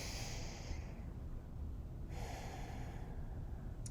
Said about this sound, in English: Let's take a big deep breath in Tadasana